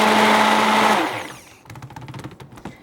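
A blender whirs loudly and steadily for about a second while mixing black coffee soap batter toward trace, then stops and leaves a few faint clicks and rattles.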